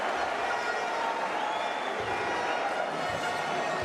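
A home crowd at a Bulgaria versus Germany basketball game roars and cheers in a dense, continuous wash of noise, loud and sustained throughout the short stretch.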